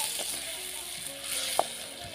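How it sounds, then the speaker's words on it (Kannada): Chopped tomatoes frying in oil in a pan for a fish curry, a steady close sizzle with a few soft stirring scrapes and one sharp clink of the spoon against the pan. "2 ಟೊಮೊಟೊ ಹಣ್ಣನ್ನು ಈ ಥರ ಸಣ್ಣದಾಗಿ ಕಟ್ ಮಾಡಿ ಸೇರಿಸಿ ಸಾಫ್ಟ್ ಆಗೋವರೆಗೂ ಚೆನ್ನಾಗಿ ಫ್ರೈ ಮಾಡ್ಕೋಬೇಕಾಗತ್ತೆ"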